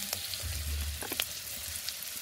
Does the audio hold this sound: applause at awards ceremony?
no